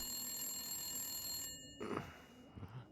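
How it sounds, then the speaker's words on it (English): Landline telephone in The Long Dark: Wintermute rings with bright bell-like tones for about a second and a half, then cuts off, leaving faint background rustle. "It's not the cell phone. It's the landline."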